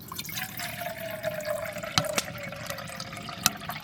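Water pours into a Pathfinder camping pot outdoors, a steady close trickle broken by a few brief splashy drips.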